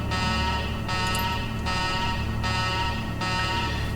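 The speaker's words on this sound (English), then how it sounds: "You punch the button, and alarm klaxons blare." Alarm klaxons in the Shadowrun: Dragonfall video game blare during a base self-destruct sequence, sounding in loud, steady pulses of roughly equal length with no voices over them.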